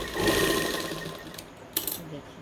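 A sewing machine stitches a salwar in a short, close burst of whirring that fades out after about a second, followed by quiet handling sounds and a brief clatter.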